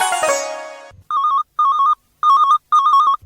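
Telephone rings for a Hindi radio phone-in request programme on Akashvani: four repeated electronic ring bursts with short gaps, loud and clear, following a fading tail of music at the start.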